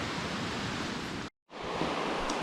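Creek water rushes steadily at a trail crossing on Bone Valley Creek during a backcountry hike, a broad continuous wash that drops out briefly midway, then resumes just as loud.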